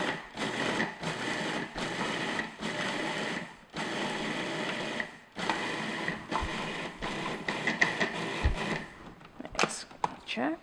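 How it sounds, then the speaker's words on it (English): Food processor pulsing fig oatmeal cookie batter into coarse crumbs, loud motor whirring in repeated bursts of one to two seconds separated by short pauses, close up, ending with lighter clatter. "if you're using a food processor, just pulse it"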